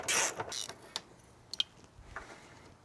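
A ratchet works on bolts during removal of the radiator from a 1992 Nissan 300ZX Turbo. A quick burst of close ratcheting clicks opens the clip, followed by a few sparse metallic ticks, and no one talks.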